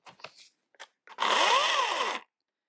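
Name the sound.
Wen battery electric chainsaw running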